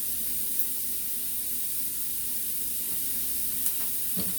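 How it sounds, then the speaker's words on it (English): Onions sauté in a pan for a quick low-carb miso soup, giving a steady, fairly quiet sizzle with a few faint clicks and stirring sounds; no one speaks. "we're going to go ahead and keep sauteing this for a second, but we don't want our onions to get soft"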